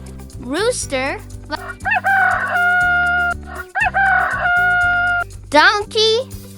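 A rooster crows twice, each a loud, drawn-out cock-a-doodle-doo, over bouncy background music, with brief rising voice-like calls at the start and end.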